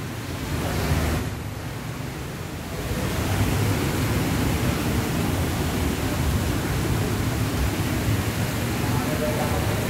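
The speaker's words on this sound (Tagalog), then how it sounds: "Ayan po yung waterfall area nila." A hotel waterfall feature at Shangri-La Makati, a constant broadband rush of falling water, steady and fairly loud throughout.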